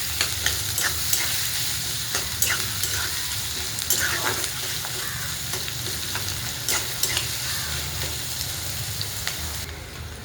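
Finely chopped onions fry in oil in a pan with curry leaves, a continuous close sizzle broken by repeated scraping and tapping as a spoon stirs them, with no one speaking.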